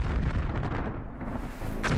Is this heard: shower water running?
no